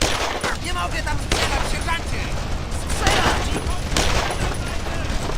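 Dense, continuous gunfire from the World War II video game Brothers in Arms: Road to Hill 30 crackles loudly throughout, and someone talks over the shooting.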